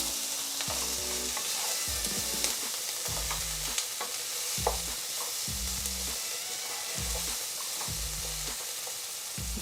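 Tindora (ivy gourd) curry fries in a pan with a constant loud sizzle, while a spoon scrapes and stirs at a steady pace, each stir bringing a short knock and scrape, close up and with no speech.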